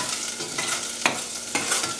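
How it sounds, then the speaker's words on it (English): Serrano pepper and mustard seeds fry in a pan, giving a steady close sizzle broken by a few scraping stirs, with no one talking. "I'm going to fry that up a little bit."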